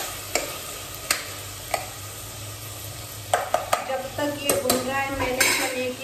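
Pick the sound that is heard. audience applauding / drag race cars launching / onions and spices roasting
onions and spices roasting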